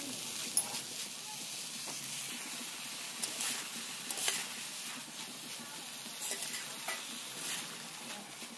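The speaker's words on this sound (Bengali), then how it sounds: "ধনিয়ার গুঁড়ো, হলুদের গুঁড়ো, লবণ দিয়ে এবার সব ভালো মতো একসাথে ভেজে নেব।" Grated cauliflower with coriander powder, turmeric and salt fries softly in a pan, a steady low sizzle broken by scattered scrapes and taps of the stirring utensil.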